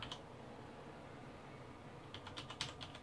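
Keys click on a Corsair Vengeance K70 mechanical gaming keyboard with Cherry MX Red switches, a single tap followed after a pause by a quick, quiet cluster of presses near the end.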